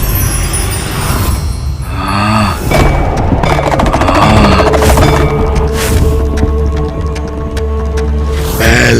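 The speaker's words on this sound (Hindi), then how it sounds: "ये कैसा विस्फोट था?" Explosion effect in a Hindi mythological TV series battle scene, a heavy booming blast with rumbling, crackling bursts layered over dramatic music throughout, loud and sustained.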